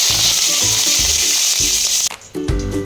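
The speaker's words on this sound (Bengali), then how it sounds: "কড়াইতে আমি সরষের তেল নিয়েছি, তেল গরম হয়ে গেছে। কারি পাতা দিলাম," Curry leaves dropped into hot mustard oil in a wok, giving a loud, steady sizzle with crackling bursts, close up and with no talk.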